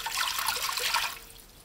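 Cold water pours into a bowl for bread roll dough, a soft splashing trickle that runs for about a second and then tapers away.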